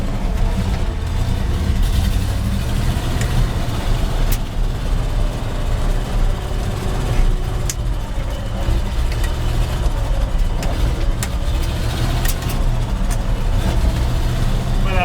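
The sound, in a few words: 1975 GMC C6000 truck engine while driving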